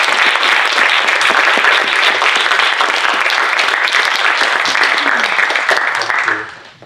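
Audience applause closes a film director's masterclass, a dense, steady wash of many hands clapping close by that holds for several seconds before fading out.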